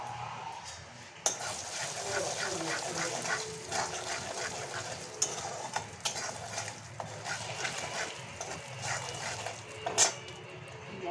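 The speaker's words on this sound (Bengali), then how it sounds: "তেল গরম হয়ে গেছে, তো একটু নাম দেবো জিরে, ধনে, শুকনো লঙ্কা" Cumin, coriander and dried chilli hit hot oil for butter paneer, giving a bright, crackling sizzle that runs steadily for about ten seconds, with sharp pops and stirring clatters scattered through it.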